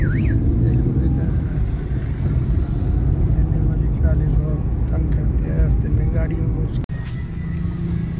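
Heavy road traffic in a jam where vehicles are stuck behind a sugarcane-laden vehicle blocking the road near a bridge: a steady loud engine rumble with passing cars and faint horns throughout, while people talk faintly in the background.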